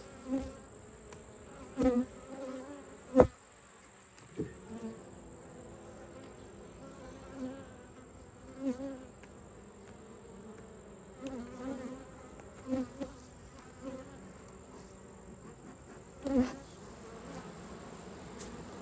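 Steady buzzing of honey bees around an open hive hums throughout, broken by occasional sharp clicks and knocks close by, with no talking.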